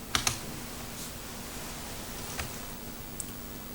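A few quick key presses on an MSX computer keyboard, including the control key, with two clicks near the start and a couple of isolated taps later, faint against a steady background hiss.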